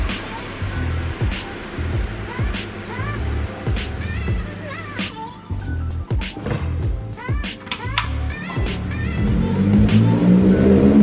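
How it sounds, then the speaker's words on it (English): A 10th generation Honda Civic in Nardo gray rolls into a garage, its engine a steady rumble that swells toward the end, along with scattered clicks and knocks nearby. "Got the Civic all pulled in"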